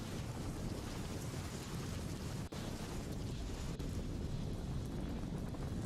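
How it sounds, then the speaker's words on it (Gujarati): Heavy monsoon rain in Gujarat pours down in a dense, steady roar, broadband and unbroken, with gusty wind buffeting the microphone throughout. "પરંતુ આ વાવણી લાયક વરસાદ છે"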